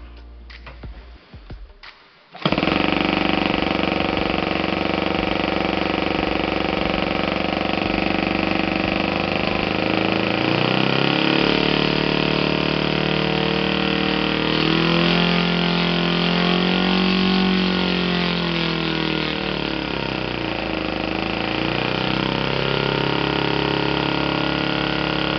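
A Saito FA 120S four-stroke model aircraft engine running on spark ignition, catching after a few rough start-up bursts, then holding a loud, steady drone that dips and swells slightly with throttle changes, with no talk over it.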